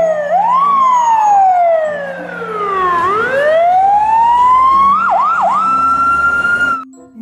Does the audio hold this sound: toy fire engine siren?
yes